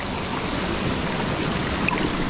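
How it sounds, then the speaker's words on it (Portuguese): Aconcagua waterfall at the natural pools of Camboriú, a steady, full roar of falling water that holds constant and close without any break. "Ali tem a cachoeira do Aconcagua."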